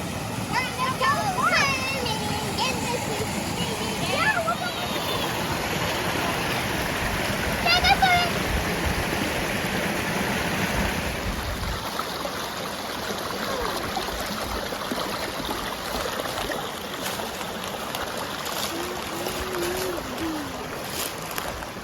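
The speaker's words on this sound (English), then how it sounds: "you can just hear the creeks running with all the rain we had" Rain-swollen creeks running through the Ouachita woods, a broad steady rush of flowing water filling the whole stretch, with a person talking over it near the start.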